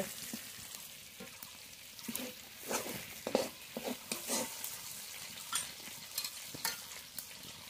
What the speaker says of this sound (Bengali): আস্তে আস্তে জাল দিয়ে নেড়ে নেড়ে পটল খুব ভালো করে ভেজে নিয়েছি